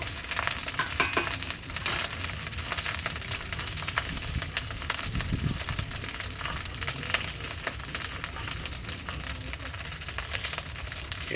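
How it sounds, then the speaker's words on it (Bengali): Capsicum, carrot and beans stir-fried into fried rice in a pan, giving a continuous close sizzle with scattered scraping and stirring clicks throughout. "এই যে ক্যাপসিকাম, গাজর আর বিনসগুলো এর সঙ্গে মিশিয়ে দেব।"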